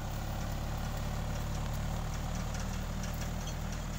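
A tractor engine idles steadily in a net house while beds are being prepared, giving a continuous low, throbbing rumble that stays even and close throughout with no talking.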